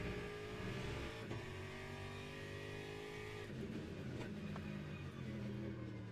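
An Aston Martin race car in the sim racing game Le Mans Ultimate at Spa roars continuously at high revs, its engine note shifting through gear changes and throttle modulation, loud and steady throughout.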